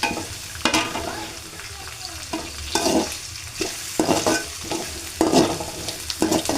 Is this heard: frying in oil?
yes